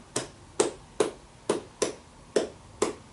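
Seven sharp hand claps in an even, unhurried rhythm, close and clear with nothing else in the background.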